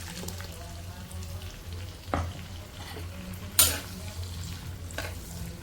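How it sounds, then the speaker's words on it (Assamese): Pork with salt, turmeric and spices fries in a pan with a low, steady sizzle and a few sharp spatula scrapes and clinks as it is stirred. "এতিয়া অলপ সময় ভাজিম"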